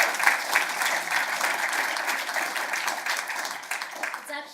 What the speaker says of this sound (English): could we give another round of applause to Ryan?